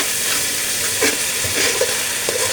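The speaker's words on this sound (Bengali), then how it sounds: "এখন মশলাটা আর একটু ভালোভাবে কষিয়ে নেব" Mustard spice paste for a catla fish curry being sautéed in oil over medium-low heat, giving a loud, dense, steady sizzle with occasional soft stirring scrapes up close, no voices.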